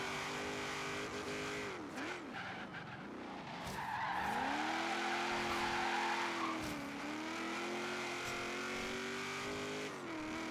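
A Subaru WRX in Forza Horizon 4 races with a sustained engine drone that rises and dips through gear changes, while tires squeal loudly through a long slide in the middle.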